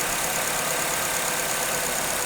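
Mazda 2 car engine, previously run on a hydrogen system, idling smoothly and evenly at close range, a steady mechanical hum with no voices.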